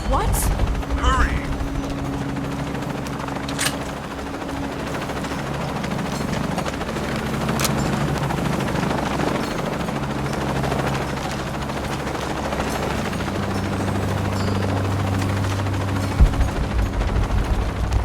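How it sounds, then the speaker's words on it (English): A helicopter in the video game Shadow of the Tomb Raider makes a loud, continuous rotor thrum with sharp gunfire-like bursts and voices over it. "Chopper, I've got a pilot."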